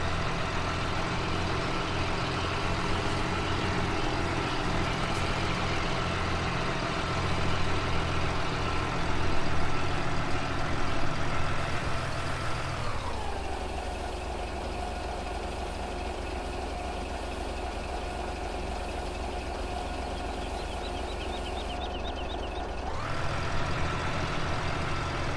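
A truck engine in Farming Simulator 17 runs throughout, a continuous low drone with a shift in pitch and tone partway through, as if revving or changing load, with no talk over it.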